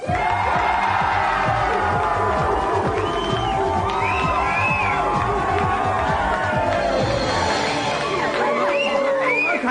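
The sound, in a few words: studio audience cheering for a TV show guest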